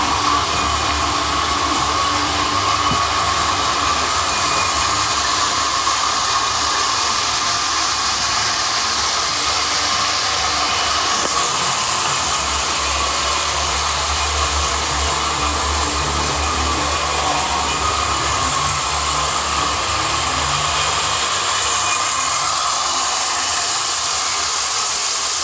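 A Lionel model toy train runs continuously with a steady loud hissing, whooshing drone of motor and smoke unit, no clear breaks throughout.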